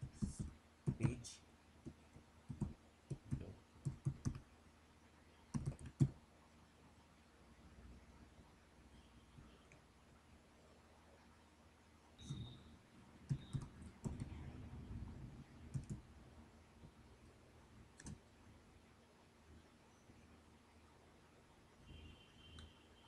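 Faint computer keyboard typing, with quick clusters of soft key clicks near the start, another run in the middle and scattered taps later, low and quiet against a hushed room.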